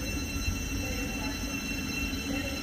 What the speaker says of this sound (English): leaving now is 700-155, working a Thameslink service to